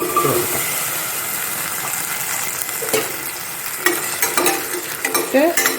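Shallots and a slit green chili sizzle and fry in a pan while being stirred, a steady close crackle broken by scraping stirs and a few louder clatters near the end.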